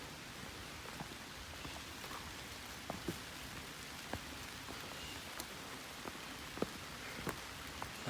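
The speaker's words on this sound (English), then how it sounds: "Raining on Culp's Hill." Steady rain falls through thick woods on Culp's Hill at Gettysburg, a soft continuous patter with a few sharper drips landing nearby, and no voices.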